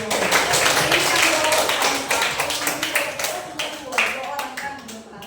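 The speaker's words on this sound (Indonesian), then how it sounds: "Tepuk tangan dulu." A classroom of students clapping together at a teacher's prompt, bright rhythmic claps with uneven bursts that gradually loosen and fade, close and fairly loud.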